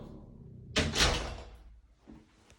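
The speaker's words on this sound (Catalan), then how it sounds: "comencem per la porta d'entrada i entrem al pis" The entrance door of a duplex apartment in Girona opens with a sharp latch clack and a brief rushing swing, followed by quieter rustling.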